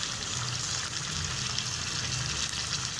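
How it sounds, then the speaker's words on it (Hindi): Chicken cooking in a pan sizzles softly and steadily as yogurt is added, a continuous low hiss with faint bubbling and no talking. "अब हम इसके अंदर दही ऐड कर देंगे।"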